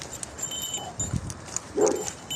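A dog gives a couple of short barks and a whimpering yip against faint background noise, fairly close, with no talking.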